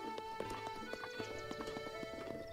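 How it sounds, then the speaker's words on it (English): A horse's hooves clip-clop in Zelda Breath of the Wild, a quick, regular run of fairly quiet hoofbeats on hard ground throughout. "I'm ready to take my horse back now"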